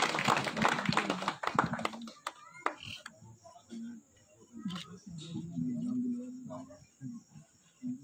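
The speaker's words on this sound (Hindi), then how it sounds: "तालियों से गड़गड़ाहट कीजिए।" Crowd applause at a public gathering backing a father-and-son pair: dense, loud clapping for the first two seconds, then thinning into scattered claps under a voice speaking over a sound system.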